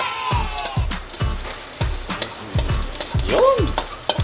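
Garlic sizzles and crackles in hot oil in a pan, an early step toward beef salpicao with creamy sauce, with steady frying and a run of close, rhythmic stirring scrapes.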